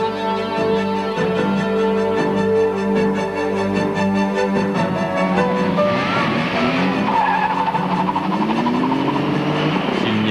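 A Maserati driven hard near the limits of its suspension, its engine roaring loud and steady while the tires squeal and skid in long, wavering screeches through the second half.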